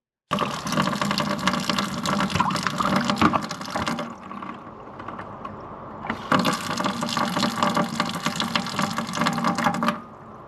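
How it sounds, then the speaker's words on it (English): Water runs hard from a tap into a blocked sink, gushing steadily, pausing briefly midway, then pouring again before cutting off. "we'll see if the sink fills up still"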